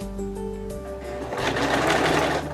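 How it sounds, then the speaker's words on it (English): Sewing machine stitching fabric for a red sparkly dress for 18-inch dolls: a steady, close motor whir with a rapid needle rhythm that runs continuously throughout, with no talking. "I'm gonna sew right with the fabric on the edge there"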